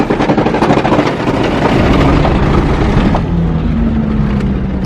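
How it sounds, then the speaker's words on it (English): A car does a burnout to burn off a tire, its engine roaring hard and revving in a loud, sustained, close-up drone that shifts pitch partway through, with no talking. "I'm gonna try and burn this tire off"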